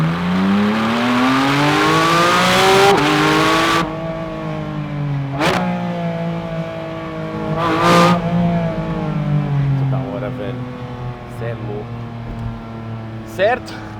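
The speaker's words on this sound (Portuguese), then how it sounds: "Aqui vai dar para dar uma acelerada de novo." A 2024 Porsche 718 Spyder RS convertible revs and accelerates through rising gears, the engine note climbing loud and close with sharp shifts between pulls, then settling to a steadier drone, while someone talks over the engine.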